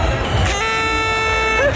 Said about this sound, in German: Gib mir die Tröte, ich will auch mal tröten.